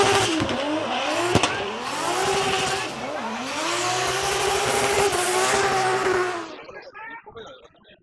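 Drift car engine screaming under heavy throttle at Ebisu Circuit West Course, Fukushima, loud and close with rising and falling revs and tire squeal, fading out near the end.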